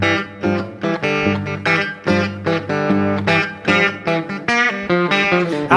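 Opening of a song, played as a loud, dense instrumental passage with sustained harmonic tones and rhythmic chord changes throughout, no voices heard.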